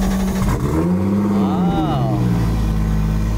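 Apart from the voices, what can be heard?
Toyota GT86 engine with anti-lag revving on dyno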